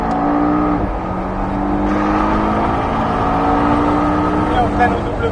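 A Porsche Cayman S accelerates hard at full throttle on the Pôle Mécanique d'Alès circuit, its engine giving a loud, steady, close drone that rises slightly in pitch, with a voice speaking over it.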